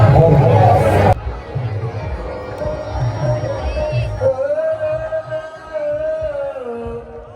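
Dense crowd chatter fills the open area around the Kranti Stambh memorial: loud, steady babble of many voices close by, with a sustained tonal hum rising above the crowd in the second half.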